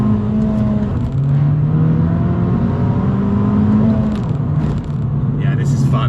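An Abarth F595 hot hatch engine pulling hard in first gear, a loud close rising drone with a brief dip at a shift, then climbing again, with a voice talking over it.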